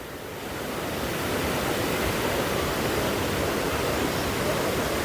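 A loud, continuous roar of rushing waterfall water near Nanded, Maharashtra, dense and unbroken, swelling slightly at the start and then holding steady.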